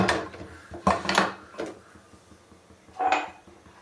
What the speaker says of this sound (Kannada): ಕುಕ್ಕರ್ ಕ್ಲೋಸ್ ಮಾಡ್ತಾ ಇದ್ದೀನಿ